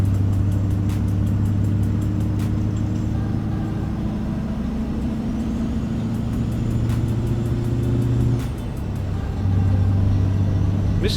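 A heavy truck engine from JC's Amateur Engine Pack in American Truck Simulator, with a reefer trailer sound addon, holds a loud, steady low drone, dips briefly near the end, then returns to its even rumble.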